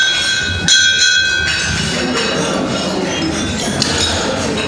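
Glasses clinking during a wedding toast, with bright ringing clinks layered over a dense, steady crowd murmur in a busy room.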